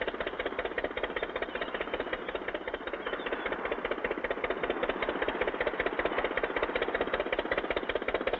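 A boat engine chugs steadily as the boat leaves the dock, at a rapid, even rhythm, loud and continuous with a rattling edge, no voices.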